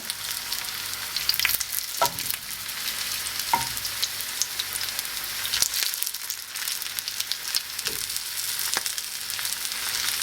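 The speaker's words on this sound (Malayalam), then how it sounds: "നമുക്കിതെല്ലാം നമ്മുടെ ഓയിലിലേക്ക് ഇട്ട് കൊടുക്കാം" Green banana vada frying in oil in a pan over medium heat, a steady crackling sizzle with occasional sharper pops and soft stirring scrapes throughout.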